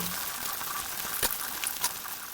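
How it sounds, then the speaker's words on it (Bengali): Soft sizzling of skewered chicken frying in hot oil in a kadai, quiet and steady, with a couple of brief clinks or stirring sounds. "কড়াইয়ে তেল দিয়ে দিলাম, দেওয়ার পরে এখন আমি ভেজে নেব"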